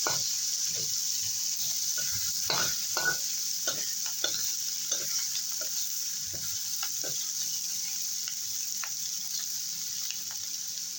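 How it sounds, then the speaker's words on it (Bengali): Bitter gourd frying in a pan, a soft steady hiss with a spatula scraping and stirring in irregular strokes, moderately quiet and close, nobody speaking. "উচ্ছেটাকে একটু ভালো করে ভেজে নেব"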